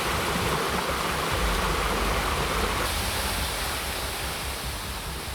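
A mountain stream in Val Pennavaire, Liguria, rushes steadily with loud, dense, unbroken water noise close by, constant throughout without a pause.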